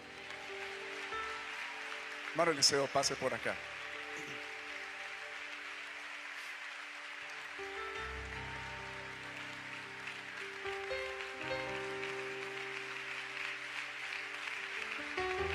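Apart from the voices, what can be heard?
applause welcoming missionary Eliseo Duarte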